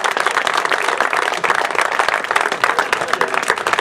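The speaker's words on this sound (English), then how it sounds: "So a round of applause for Commercials" Players and supporters give a steady round of applause for the opposing Commercials Dublin team after the 2020 junior E county hurling final against Round Towers Lusk, a continuous crowd clapping throughout.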